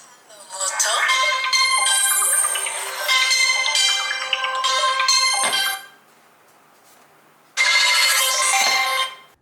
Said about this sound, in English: Once you turn your phone up again, it will start ringing.